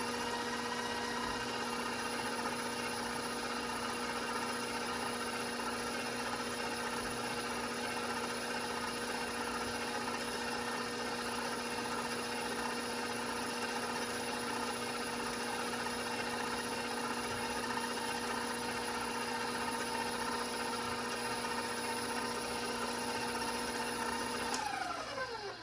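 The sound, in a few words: electric mixer mixing muffin batter with eggs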